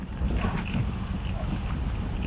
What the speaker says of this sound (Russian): Выехал, ветер дует по-прежнему